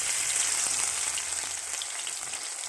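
Garlic frying in hot oil in a home kitchen pan, a faint, steady crackling sizzle with scattered small pops throughout.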